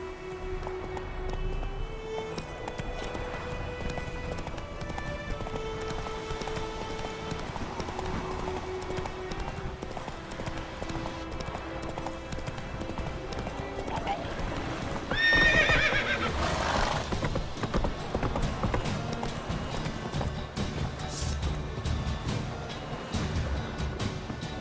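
Roach, the horse in The Witcher 3, gallops with steady clip-clop hoofbeats and a loud whinny partway through, set against a continuous bed of in-game music.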